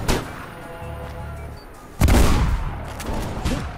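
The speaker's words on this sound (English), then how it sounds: "now you've got a single barrel shotgun" A single barrel shotgun fires in the first-person game Mirror's Edge. Two heavy booming blasts, one at the start and a louder one midway, each leave a rumbling decay over quieter background game noise.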